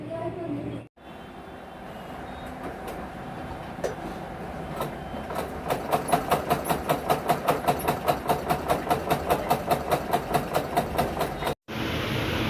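A home sewing machine, recently oiled and repaired after sitting unused, stitching with a fast steady mechanical clatter that becomes an even rhythmic ticking partway through, close and fairly loud, with a brief cut near the start and end.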